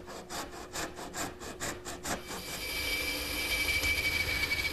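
A handsaw cuts the back shoulder of a wooden tenon for a Morris chair, starting with about ten rhythmic, evenly spaced rasping strokes, then settling into a steadier, continuous scraping at close range.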